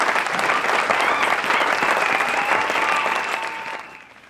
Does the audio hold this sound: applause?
yes